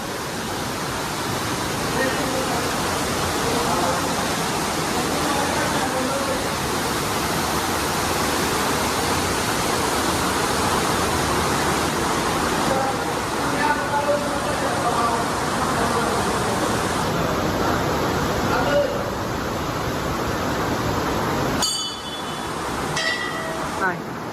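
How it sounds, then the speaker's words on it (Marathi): A steady, broad roar of a waterfall pouring down from above on a hillside near Dhareshwar temple in Satara, continuous and fairly loud, with voices faintly present under the rushing water. "हे डोंगराच्या एकदम मधोमध मंदिर आहे आणि वरतून असा धबधबा येतोय"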